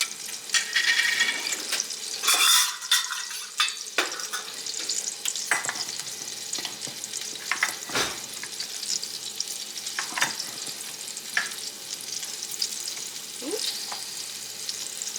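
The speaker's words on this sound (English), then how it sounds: "and then I just add that to the butter and the spices." Jasmine rice stirred into melted butter and spices in a pan sizzles and crackles steadily up close, with a few scraping stirs and clinks breaking through the frying hiss.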